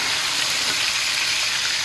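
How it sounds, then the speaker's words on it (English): Pork loin sears in hot oil inside an Instant Pot, giving a steady, close, dense sizzle and crackle that holds level throughout with no voices. "once it starts to brown, you want to start to sear"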